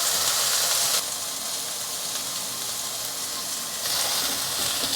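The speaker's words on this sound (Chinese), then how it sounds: "放入杏鲍菇来煎。" King oyster mushrooms pan-fry over low heat in hot oil, a close, steady hiss of sizzling that briefly softens in the middle before swelling again, with no talk.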